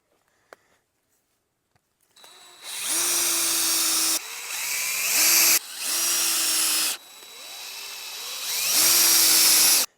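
A power drill starts up after a moment of quiet and runs in four loud bursts drilling into a pole, whining steadily between brief stops, close and alone.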